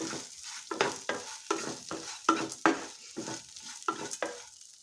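Fenugreek, sesame, cumin, chana dal and peppercorns dry-roast in a pan, stirred in a quick series of rattling scrapes and light crackles, close and fairly clear.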